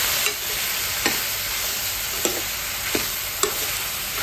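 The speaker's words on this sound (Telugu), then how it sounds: "కొంచెం ఆయిల్లో ఇలా అని ఒక 2-3 మినిట్స్ మనం మూత పెట్టి మగ్గించుకోవాలి." Pieces of ridge gourd cook in a little oil with turmeric and salt under a lid, giving a steady soft sizzle with a few light clicks of stirring, moderately quiet and with no talk.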